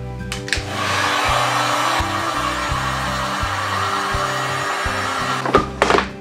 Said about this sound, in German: Föhn oder Heißluftföhn nehmen und da nochmal ein bisschen drüber gehen